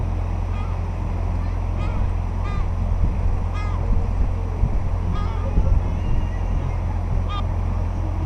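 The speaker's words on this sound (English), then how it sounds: "seagulls are attacking them" Gulls call out in repeated squawks every second or so over a constant low boat engine rumble on the Norfolk Broads, with voices murmuring faintly in the background.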